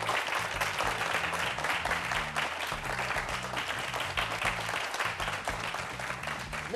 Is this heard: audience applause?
yes